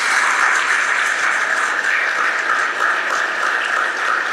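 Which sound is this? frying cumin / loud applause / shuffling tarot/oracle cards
loud applause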